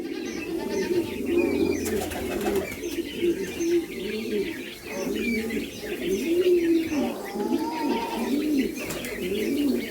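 White-cheeked turaco and Roul roul partridge eating fruit salad in captivity, with soft repeated cooing, chirps and occasional wing flaps close by and continuous through the clip.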